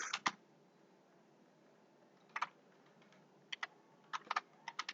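Keystrokes on a computer keyboard while entering a .NET EF migration command, with a few short bursts of clicks separated by pauses, fairly faint over quiet room noise.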